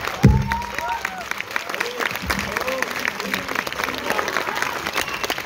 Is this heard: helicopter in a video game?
no